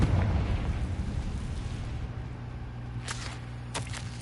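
Confringo blasting spell cast in the Hogwarts Legacy video game, a booming burst over a low rumbling ambience, followed by two short sharp crackling bursts near the end.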